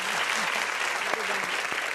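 Dense audience applause welcoming guests at a live conversation event, a continuous loud wash of many hands with a faint voice briefly audible underneath.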